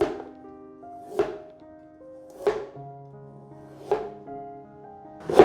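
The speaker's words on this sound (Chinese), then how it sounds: "把红萝卜切条。" A kitchen knife slicing a peeled carrot into slices and strips on a cutting board, five distinct crisp chops spaced about a second apart, close and clean, with soft music in the background and no speech.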